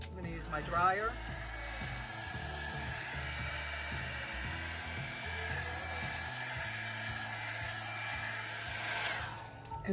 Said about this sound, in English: My dryer.